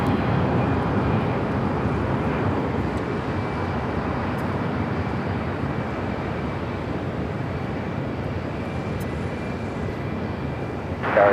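A jet airliner at Los Angeles International Airport produces a steady, broad roar that stays fairly loud and even throughout with no voices, like an aircraft holding power on or near the runway.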